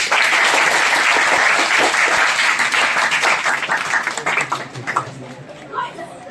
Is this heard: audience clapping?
yes